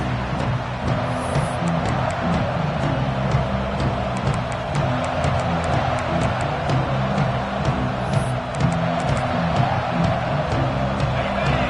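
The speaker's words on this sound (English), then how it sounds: "Listen to the crowd energy here in the early going." Football stadium crowd early in a game, a loud, continuous roar and murmur of many voices with faint cheering, steady throughout.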